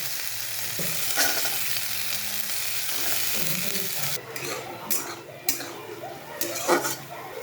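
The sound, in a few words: capsicum, ginger and peas frying in a wok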